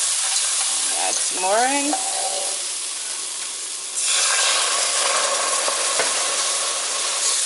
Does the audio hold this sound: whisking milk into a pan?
yes